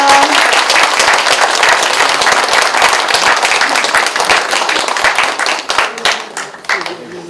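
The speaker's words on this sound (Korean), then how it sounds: "여러분 세 분께 박수 한번 보내주시기 바랍니다" A debate audience for a county mayoral candidates' forum in Gangwon, Korea claps in loud, sustained applause that thins out toward the end.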